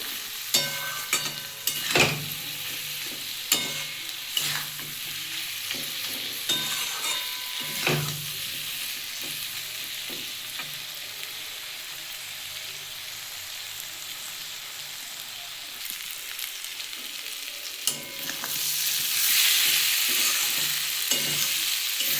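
Spiced masala paste sautéed in a pan for a Bengali cauliflower, potato and prawn curry, giving a steady soft sizzle broken by repeated scraping stirs of the spoon. Near and alone, with the frying growing brighter and louder toward the end.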